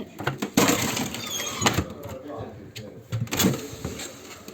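A drawer of a household freezer packed with frozen beans, mushrooms and crab slides open with clattering, rattling bursts under a woman's close, continuous talk.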